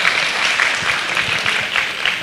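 A crowd claps in sustained, dense applause, loud and continuous throughout.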